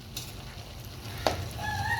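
Vegetables stirred in a sizzling pan while cooking a Filipino vegetable dish, a steady fry hiss with a brief louder scrape of the spoon partway through, close and alone.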